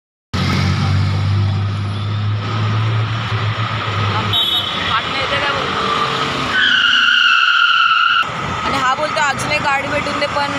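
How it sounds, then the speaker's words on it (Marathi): A vehicle approaches and passes on a road, its engine roar loud and broadband throughout with a rising whine near the end as it goes by close to the microphone. "आता गाइस कुठली तरी गाडी येते"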